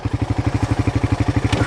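A Honda Rancher or Polaris ATV engine thumps out a fast, even, loud putter close by, with a brief clunk toward the end.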